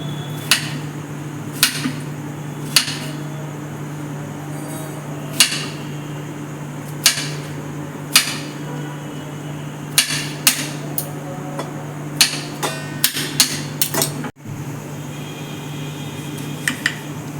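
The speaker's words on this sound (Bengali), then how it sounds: "এবার পরিমাণ মতো শসা কেটে নিচ্ছি" Knife chopping cucumber on a cutting board while making chatpati, a spicy street snack: sharp, separate knocks that come irregularly, about a dozen of them, over a steady low kitchen hum.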